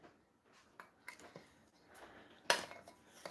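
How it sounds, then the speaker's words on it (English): A lid is set onto a glass jar of dry flour, with a few small clinks and taps followed by one sharp, close knock as it seats, each sound isolated in a quiet kitchen. "And then, on goes the lid."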